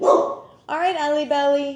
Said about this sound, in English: She protects us with her crazy bark